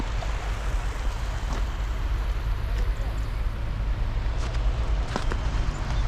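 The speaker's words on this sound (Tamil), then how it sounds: "ஒரு சின்ன நீரோட பனி அப்படியே உருகி வருது." A small stream of melting snow water flows near Srinagar, Kashmir, giving a steady, even rushing wash that fills the whole clip at moderate loudness.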